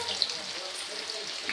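Garlic frying in hot oil for a chicken kebab dish, a steady, close crackling sizzle running evenly throughout with faint bubbling pops and no talking.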